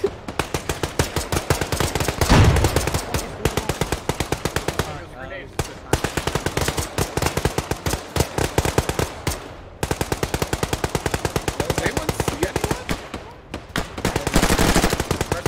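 Sustained machine gun fire in Arma 3, long rapid bursts of loud automatic rounds with brief pauses, occasional heavier blasts and faint shouting voices under the shooting.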